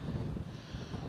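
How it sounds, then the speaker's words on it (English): Strong gusty wind buffets an outdoor microphone with a steady low roar, loud and close, and no voices. "It's just so flaming windy"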